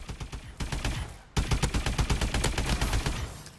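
Rapid automatic OHM gunfire in the Call of Duty: Advanced Warfare video game, two long bursts of loud, evenly spaced shots separated by a brief pause, with no talking.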